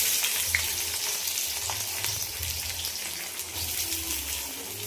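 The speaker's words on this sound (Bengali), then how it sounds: "পেঁয়াজটা লাল লাল করে ভেজে নেব।" Onions fry in hot oil with dried chillies and cumin, a steady close crackling sizzle with faint occasional stirring.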